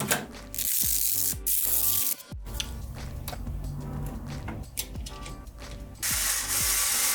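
Straps being removed from a PC case give a series of close ratcheting, clicking mechanical sounds and plastic scrapes, in uneven bursts with short pauses.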